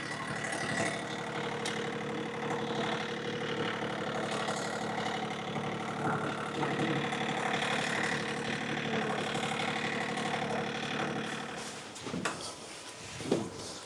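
A John Deere 3520 tractor engine runs at a steady idle, a continuous mid-pitched diesel rumble with a light knock, ending with a few clunks and rattles near the close.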